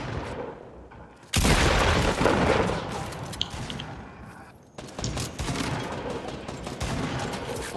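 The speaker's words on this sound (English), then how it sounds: "There's grenades coming in." Grenade blasts and gunfire in a Fortnite Battle Royale match, with a sudden loud burst followed by dense, sustained crackling fire and a brief dip before another heavy volley, all close and continuous.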